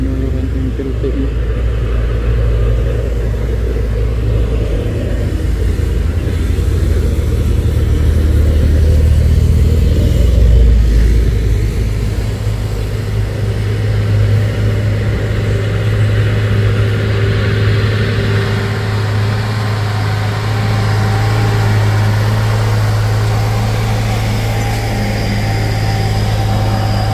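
A Hino truck engine, started by hand crank, runs at a steady, loud, close diesel rumble throughout, with voices talking over it.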